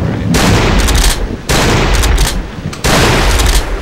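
Three loud, close gunshots in the horror video game Cry of Fear, each a sharp blast that fills the sound and rings on before the next, evenly spaced and with no talking.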